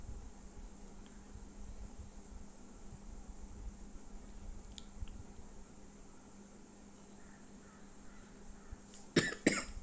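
A person coughs two or three times in quick succession near the end, loud and close, after a long stretch of quiet room hum with a faint steady high tone.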